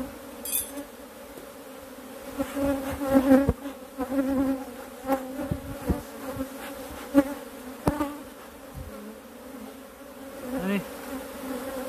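Buzzing from an aggressive honeybee hive, a dense steady hum of many bees with individual insects droning close past at intervals, fairly loud throughout with no talk.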